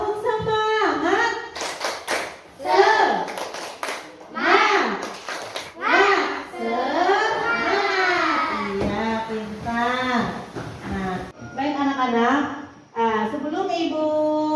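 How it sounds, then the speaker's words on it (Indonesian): Children in a school classroom chant together in a rhythmic clapping cheer, voices rising and falling in unison with sharp hand claps punctuating the beat. "ayo kita tepuk semangat dulu. Tepuk semangat."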